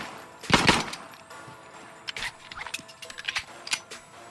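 A single sharp sidearm shot cracks out first, followed by a loose run of lighter clicks and smaller reports, all close and dry, from a recoil test in the video game Insurgency: Sandstorm.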